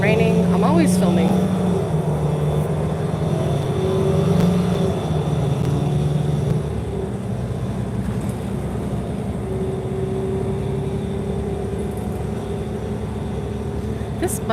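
A loud city bus rolling through Etobicoke, its engine drone and tonal whine filling the cabin with a steady low rumble, pitches shifting as it accelerates and settles, with rattles and bumps throughout.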